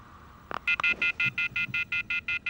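Telephone keypad tones beep once or twice, then a steady run of short, evenly spaced ringing bursts, close and clear, with no talking.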